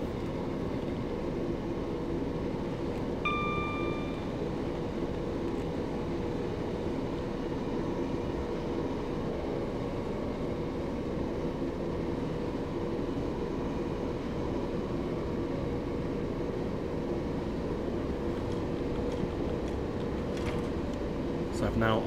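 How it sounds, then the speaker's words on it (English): A Class 375 electric train coasts with the power idled in Train Simulator 2018 on the Strood to Tonbridge route, giving a constant, even cab hum and rolling drone throughout. "I'm going to idle the power to allow the train to coast"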